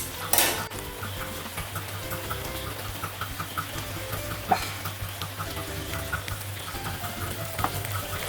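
A whole chicken being cooked for honey chicken is turned over in a covered pan, with scraping and clanking of metal utensils against the pan, a sharp clatter early on, and a faint sizzle beneath.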